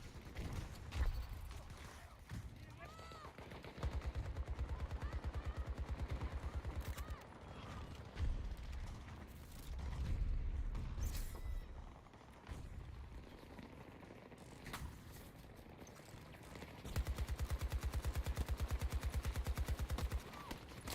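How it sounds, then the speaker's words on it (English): AK rifle fire in Battlefield 2042, several sustained automatic bursts of rapid, rattling shots separated by short pauses over quieter game ambience, with faint talking now and then. "Let's try the AK."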